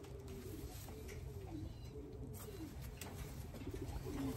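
Racing pigeon in a loft giving low, soft coos over a steady background hum, faint and close.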